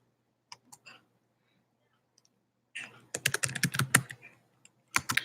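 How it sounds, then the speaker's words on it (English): Rapid keystrokes on a computer keyboard, first a few scattered taps and then a dense burst of typing after a pause, close and fairly quiet. "Pardon me that I do not type very often like I used to."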